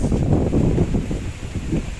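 Strong habagat monsoon wind gusting behind a house, a loud steady rush with low buffeting against the microphone and rustling of banana leaves, continuous for the whole stretch.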